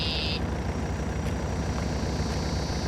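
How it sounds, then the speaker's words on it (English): A piece of farm equipment idles steadily, its engine giving a low, even rumble that holds constant throughout, with a faint high whine laid over it. "That engine sounds pretty. Just a purring along."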